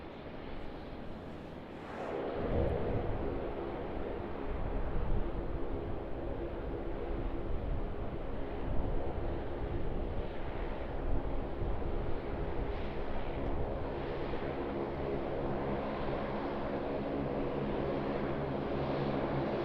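A Jetstar Airbus A320 takes off from runway 34 left at Sydney Airport, its engines swelling into a sustained broadband roar that holds loud and steady from a fair distance.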